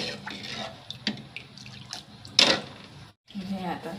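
Tamarind water is poured into a pot of rasam with dal, a brief splashing gush standing out over low kitchen clatter, with someone talking before and after.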